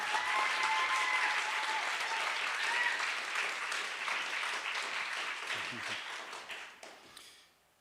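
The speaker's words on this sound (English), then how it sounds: "Could we please give another round of applause for all of our finalists" An audience at a state poetry recitation finals applauds its finalists with sustained, even clapping and a few whistles, gradually thinning and fading out near the end.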